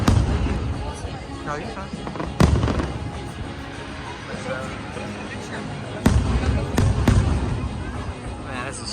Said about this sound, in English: What a place to get the fireworks show right here in front of Tron.